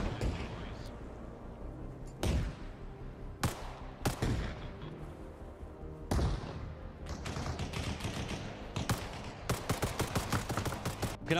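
Rifle fire and grenade launcher blasts in the video game Arma Reforger, with repeated loud sharp shots and booms in irregular bursts, some rapid, over a rumbling battlefield background.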